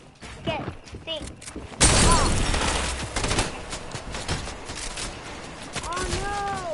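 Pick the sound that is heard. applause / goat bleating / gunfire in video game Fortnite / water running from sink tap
gunfire in video game Fortnite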